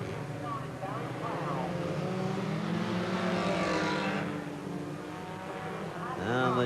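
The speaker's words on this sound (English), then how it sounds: "And the lead cars come through." Brisca F1 stock cars roar past along the home straight at Mildenhall, a loud sustained engine drone that swells and fades as the pack goes by, with a race commentator talking over it throughout.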